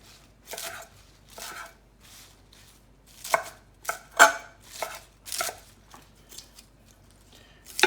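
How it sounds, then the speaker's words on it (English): A knife roughly chops romaine hearts on a cutting board, giving a series of crisp, irregular thuds close by, with short pauses between strokes and no talking. "just kind of roughly chop that"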